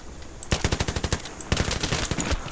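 Rapid automatic bursts from an M249 light machine gun in the video game Battlefield 3, two loud sustained strings of closely spaced shots with a short gap between them.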